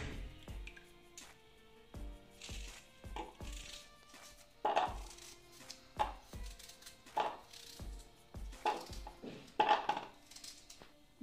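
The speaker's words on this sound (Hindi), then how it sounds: "इसको हम धो के अच्छे से फिर बारीक चॉप कर लेते हैं।" A knife chops ginger, green chillies and garlic finely on a board in a rapid, steady stream of close, crisp taps, with occasional louder knocks and no talking.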